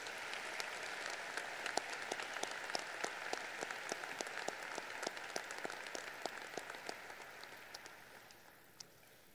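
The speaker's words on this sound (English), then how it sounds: "One more round of applause, please, for all of our talented musicians tonight." Audience at a high school graduation ceremony claps for the musicians, a steady sustained round of applause with scattered louder claps, gradually tapering toward the end.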